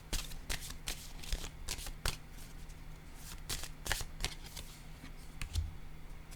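Tarot cards are shuffled in quick, crisp bursts of riffling and flicking, close and fairly quiet, with no talking.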